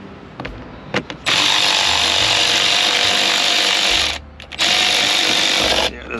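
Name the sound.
battery-powered tool running with a dying battery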